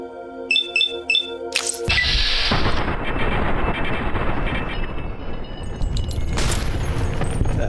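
Turret gunfire in Fallout: New Vegas, opening with a few beeping electronic alert tones, then a loud, sustained burst of rapid automatic fire with blasts and clattering impacts running continuously to the end.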